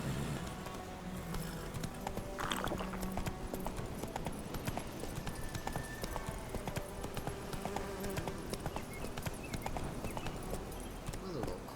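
Roach the horse trots along in The Witcher 3, hooves clip-clopping in a steady rhythm over a continuous bed of ambient game noise, with faint insect buzz in the background.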